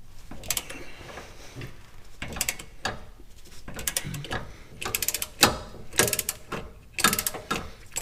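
A ratchet wrench clicks in short bursts on a sway bar link of a 2009 GMC Yukon 2WD, quick close ratcheting strokes separated by pauses, several rounds in a row.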